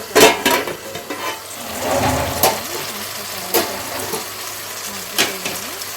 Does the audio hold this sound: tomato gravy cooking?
yes